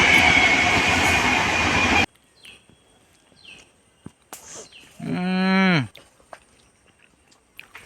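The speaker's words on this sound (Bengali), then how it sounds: "ট্রেন।" A train passes beside a village path near the forest, a loud, dense rushing roar for about two seconds that cuts off abruptly. Quieter scattered sounds follow, then a cow's long moo rises and falls.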